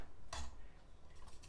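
A whisk strikes once against the pot as almond milk is mixed into leek and potato vichyssoise, followed by faint scraping and light taps against a quiet background hiss.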